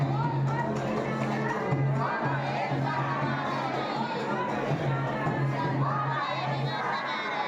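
A dense crowd of pilgrims at the Baba Baidyanath temple, a constant roar of many voices with shouts and chanting cries rising throughout, near and loud.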